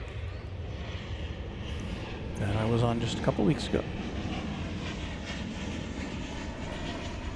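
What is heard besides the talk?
Boeing 737-800 jet airliner taxiing at DFW Airport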